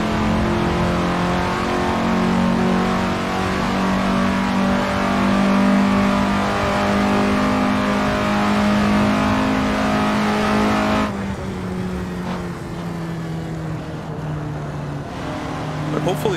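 Simulated 1950s Indy race car in Assetto Corsa, a loud droning engine held at high revs with a sustained tonal whine, then easing off and dropping pitch, with someone speaking over it.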